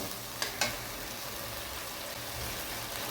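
A masala of cumin, chilli, tomato and ginger sautéing in a pan gives an even, close sizzle, broken early by two quick clicks of a utensil.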